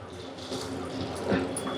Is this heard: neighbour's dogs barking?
no